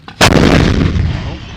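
An Israeli artillery cannon fires while shelling Gaza: a single sudden, very loud blast followed by a long, rumbling roll of echo that slowly fades.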